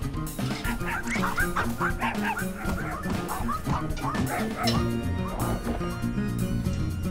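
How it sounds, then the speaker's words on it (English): A dog barks repeatedly in the video game Finding Paradise, giving quick yapping calls over a dense, continuous music track. "Rude dog?"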